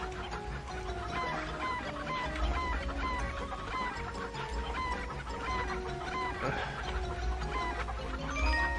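Chickens cluck and squawk in a video game farm scene, with a brown chicken among the flock; dense overlapping clucks run steadily throughout over a low background hum.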